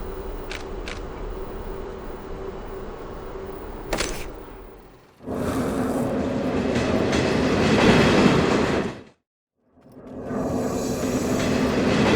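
A tram running in the video game Tails of Iron, with a steady loud rolling rumble and clatter of rail wheels, broken by a short shrill burst, a brief drop to silence, then the rumble resuming.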